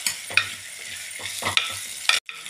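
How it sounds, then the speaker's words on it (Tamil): Cucumber, tomato and onion sauté in a pan for sambar, with a steady sizzle broken by several scraping stirs before a brief sudden stop. "வெள்ளிக்காய், தக்காளி, வெங்காயம்லாம் நல்லா வதங்கணும்."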